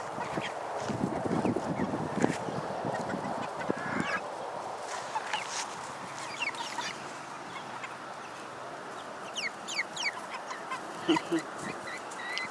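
Young Cornish Cross meat chickens about seven weeks old, a small flock giving repeated squawks and peeping calls close by, busier at first and then scattered calls over a low background hiss.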